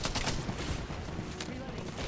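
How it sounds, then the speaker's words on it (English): Rapid, overlapping bursts of gunfire from a video game shootout crackle continuously at close range, with a voice talking over the shots. "Getting shot at."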